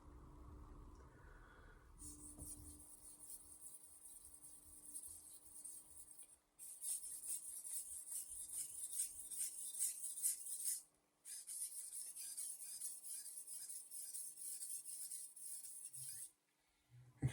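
A Mercer high-carbon stainless steel knife is stroked across Naniwa Super whetstones, giving a steady, close hissing rasp in rhythmic passes, with two short pauses between runs of strokes and no talking.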